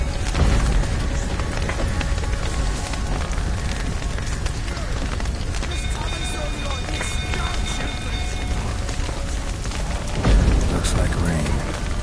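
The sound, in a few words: rain in the video game The Witcher 3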